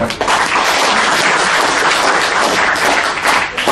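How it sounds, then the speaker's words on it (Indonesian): Loud, dense applause from a large seminar audience fills the whole stretch as a steady wash of many hands clapping at once, with no pauses. "Tepuk tangan untuk Mas."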